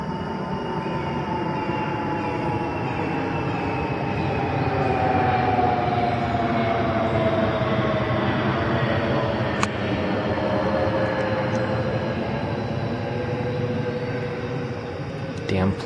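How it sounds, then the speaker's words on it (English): An airplane passes overhead by a stream bank, a steady broad roar with a slowly falling whine lasting the whole stretch, loud and continuous, a passing-aircraft sound. "Damn planes."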